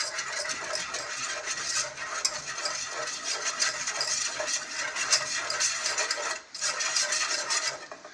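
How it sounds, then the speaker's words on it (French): A spoon stirs butter and a tablespoon of flour into a smooth roux in a pan for homemade lasagna bolognese, giving a steady scraping, rasping rhythm up close with no talking. "Vous mélangez jusqu'à obtenir une pâte homogène"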